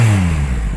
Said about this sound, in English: Let's listen to this engine note here now that the bike's hot.